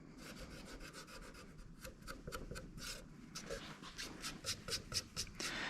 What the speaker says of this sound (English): use an eraser to erase your pencil marks